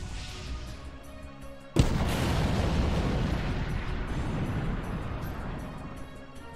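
A sudden explosion attack in a Roblox RPG game hits hard, followed by a sustained rumbling roar that fades slowly over several seconds, with no voices.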